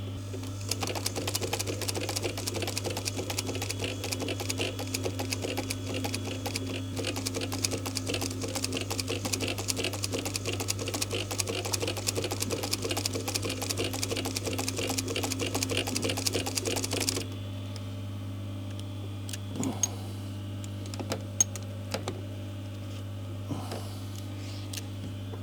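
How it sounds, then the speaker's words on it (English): An industrial leather sewing machine stitching with burgundy thread, a steady fast mechanical chatter over a constant motor hum for about seventeen seconds, then stopping to leave the low hum with occasional clicks and knocks. "if you ever wondered what an industrial sewing machine will actually sew through, this machine was actually designed for leather work"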